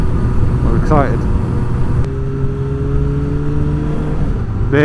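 A motorcycle on a camping trip rides along Yorkshire Dales roads, heard as a loud, steady engine drone under heavy wind rumble, with rising revs near the start and again at the end.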